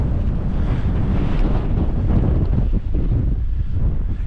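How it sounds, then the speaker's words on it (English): Strong wind roars steadily across an open hillside of the Peak District moors near Bronze Age stone circles, buffeting the microphone in a loud, continuous rush. "This wind's starting to pick up quite quickly"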